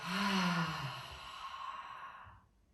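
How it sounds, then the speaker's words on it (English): A deep cleansing exhale during a morning yoga session: one long, close, breathy sigh that starts voiced and full, then fades gradually into near silence after about two and a half seconds. "Deeply inhale through the nose. And exhale to the words let go."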